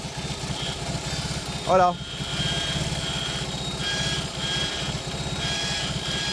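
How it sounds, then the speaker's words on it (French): A BMW motorcycle engine fires up and settles into a steady, thumping idle with a regular low pulsing beat, close and fairly loud, while someone briefly speaks over it. "tout ce que j'ai à faire, c'est appuyer sur le bouton du démarreur et hop"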